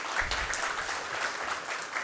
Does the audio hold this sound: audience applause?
yes